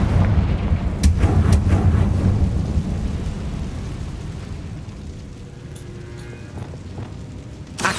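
A Confringo explosion spell from a video game bursts with a deep rumbling boom that rolls and slowly fades into a low echoing tail, with faint sharp crackles on top.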